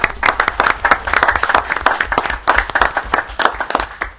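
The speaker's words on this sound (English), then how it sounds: "I think he deserves a round of applause" Applause breaks out at a town advisory committee meeting for Councilman Lachterman, a small group clapping in quick, uneven bursts that stay close and fairly loud across the whole stretch, without talk.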